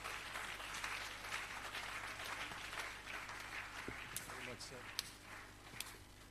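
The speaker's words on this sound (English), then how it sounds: "Please, let's give that applause again" An audience at a teacher-training closing ceremony applauds after a speech, continuous clapping under a murmur of voices, moderately faint, with a few sharper claps standing out.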